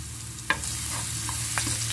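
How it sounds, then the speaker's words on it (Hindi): Sauce frying in hot olive oil for Turkish cilbir poached eggs, a close, steady sizzle with a couple of brief stirring clicks and spatters, no talking. "ये सॉस डाल दिया फ्राई करने के लिए, जनाब सॉस हमारा फ्राई हो रहा"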